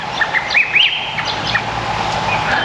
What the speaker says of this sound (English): We've got the birds chirping away.